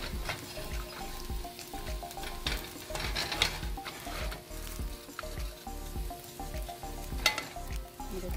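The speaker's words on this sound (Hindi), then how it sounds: "ये देखिए हलवा पक रहा है" Suji makhandi halwa cooks in a pan with a steady close sizzle and frying crackle, broken by the scrape and clatter of a spoon stirring and lifting the mixture off the bottom.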